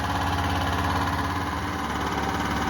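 A Generac XT8000E home generator engine idles with its idle control engaged, a steady, close, continuous drone and vibration with no change in pace and no speech.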